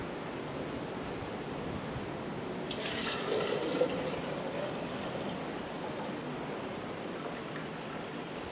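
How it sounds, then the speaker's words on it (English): Hibiscus agua fresca made with pineapple skin is poured into a mason jar, a soft watery splashing and trickle that rises briefly in the middle and then settles into a steady low wash. "let's go ahead and pour this juice out into a mason jar"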